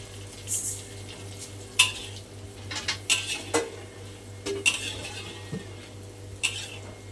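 Small anchovies frying in oil in a pan, a steady close sizzle punctuated by repeated scraping and clinking of a utensil stirring against the metal, with no talk.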